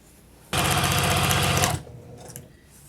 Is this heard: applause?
no